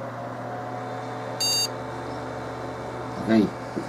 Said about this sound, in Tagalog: Pakinggan natin yung beep code ulit